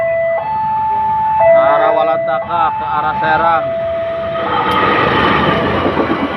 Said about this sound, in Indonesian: ini ada kereta nih mau lewat